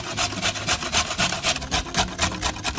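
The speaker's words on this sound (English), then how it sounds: "Grate them on a coarse grater." Carrots being grated on a coarse grater, a steady run of rhythmic rasping strokes, close and fairly loud, with no talk.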